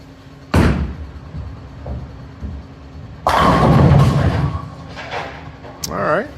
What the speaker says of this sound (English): have her throw the ball, and we're going to watch it go down the lane